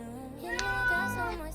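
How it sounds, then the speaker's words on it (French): A house cat gives one short meow, close and fairly clear, lasting about a second over a quiet background. "Je crois que c'était mon chat."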